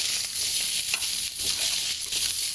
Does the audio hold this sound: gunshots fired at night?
no